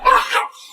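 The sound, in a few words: dog barking aggressively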